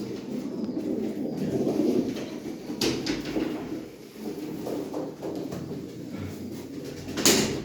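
Pet pigeons cooing softly indoors, low rolling calls repeating at moderate distance, with a couple of brief sharp knocks or scrapes standing out over quiet room noise.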